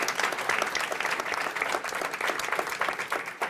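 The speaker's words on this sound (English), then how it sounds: "I think that deserves an applause too." A studio audience breaks into steady, dense applause that carries on evenly and fairly loud from start to finish, with no voices on top.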